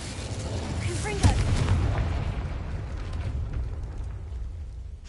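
Confringo explosive spell in the video game Hogwarts Legacy, a sharp booming blast near the start that rolls off into a low rumbling decay over a continuous background ambience.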